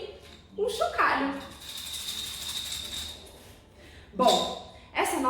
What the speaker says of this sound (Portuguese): usei esse potinho aqui com arroz. E pode ser um chocalho.